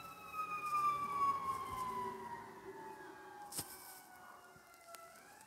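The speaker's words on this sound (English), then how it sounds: "That was a fire truck." Fire truck siren wailing as it passes, a gliding tone that slowly falls in pitch and fades into the distance, with a brief thump near the middle and light road noise underneath.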